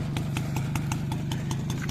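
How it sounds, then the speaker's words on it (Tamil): A twenty-year-old TVS Champ moped idles steadily nearby, its low engine thrum and exhaust putter continuous, with faint rhythmic ticking on top and no speech. "எக்ஸாஸ்ட் நாய்ஸ் அப்படிங்கிறது இந்த வண்டியில் நல்லாவே இருக்குது."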